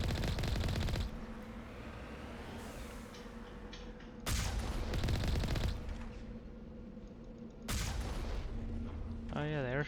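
Enemy gunfire in Mass Effect comes in three loud, sharp bursts a few seconds apart, with a voice speaking between them.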